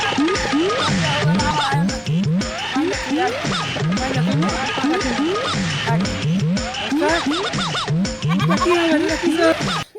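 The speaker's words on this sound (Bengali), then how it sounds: "ও কাকু পাঠা আনছি পাঠা লাগবে" Billy goats bleat over and over at a rural goat market, their cries overlapping loudly and almost without pause, with people's voices mixed in.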